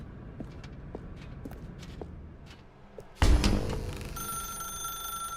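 An old-style telephone bell in the video game The Stanley Parable bursts in loudly after a few seconds of soft footsteps, then keeps ringing steadily with a bright, sustained tone.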